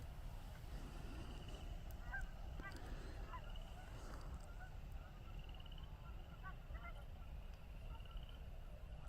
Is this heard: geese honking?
yes